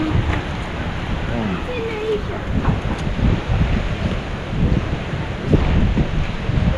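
Strong wind buffets loudly and continuously, roaring and gusting over the microphone, with a voice faintly under it.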